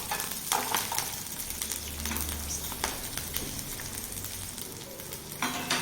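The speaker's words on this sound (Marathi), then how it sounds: "लसूण टाकल्या आता हे चांगलं आपण मिडियम गॅसवरच भाजून घ्यायचं आहे" Seven or eight garlic cloves roast in oil in a pan over a medium gas flame while bhindi thecha is being made, giving a steady, close sizzle broken by occasional scraping stirs.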